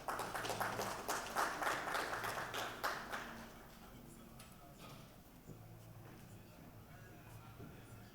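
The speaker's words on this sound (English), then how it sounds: "Let's welcome him with a round of applause." An audience at a bank-sponsored business breakfast meeting applauds to welcome a speaker, a dense burst of clapping for about three seconds that then dies away into quieter room noise.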